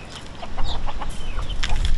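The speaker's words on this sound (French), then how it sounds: "une vingtaine volailles." Chickens in a backyard poultry yard of about twenty birds cluck and chatter in short overlapping calls over a noisy, wind-rumbled outdoor background.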